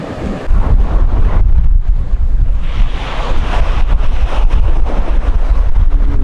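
Strong wind gusts buffet the microphone on a tropical island during a rain shower, making a loud, continuous roaring rush with no talking.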